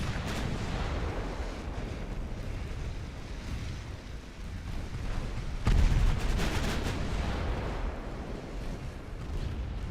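Battleship main guns firing in the naval video game Ultimate Admiral Dreadnoughts, a dense rumbling barrage with a louder booming salvo partway through, continuous and alone.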